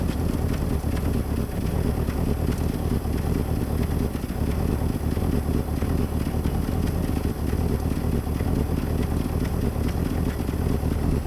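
A Mustang Cobra, abandoned for 27 years and newly revived, runs steadily through its all-factory exhaust, a continuous loud low rumble heard out back with no pauses across the whole stretch.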